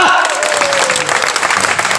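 Audience clapping at a live comedy show, a loud continuous burst of applause from the crowd with a faint trailing voice at the start.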